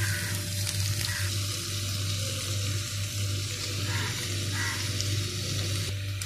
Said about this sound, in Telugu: ఇప్పుడు టమాటా ముక్కలు వేసుకోవాలి.